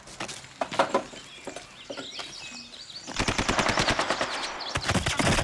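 Automatic rifle gunfire in a comedy skit, sporadic single shots at first, then a loud sustained rapid burst of repeated shots over the last two seconds, close and dominant with no talk.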